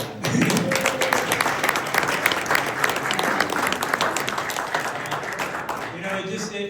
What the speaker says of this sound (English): So give her a round of applause for that.